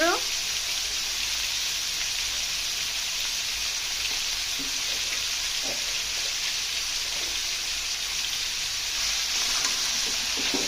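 Turmeric, chili and salt fry with potatoes and ridge gourd for a rohu fish curry, giving a steady dense sizzle close by, broken by a few soft clicks of a stirring utensil.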